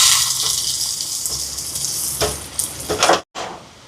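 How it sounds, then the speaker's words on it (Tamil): Cashews and raisins frying in hot ghee, a steady close hiss and crackle of sizzling oil that runs without speech and cuts out briefly near the end. "இதில் நெய் சூடாயிட்டு கஜுவையும் ப்ளம்ஸையும் சேர்க்குறேன்."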